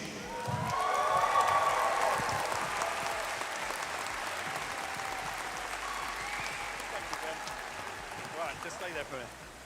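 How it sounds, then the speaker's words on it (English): Applause and cheering from the crowd at a county swimming championships in an indoor pool hall, loud sustained clapping that swells early and then fades slowly, with voices mixed in. "can we all welcome him, not only with applause, but a huge cheer"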